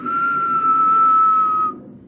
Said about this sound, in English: Today I'm going to show you how to whistle continuously